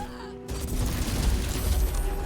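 Fired barrels exploding in Baldur's Gate 3, a sudden loud low boom that breaks a brief quiet and rolls into a sustained rumbling blast for about two seconds.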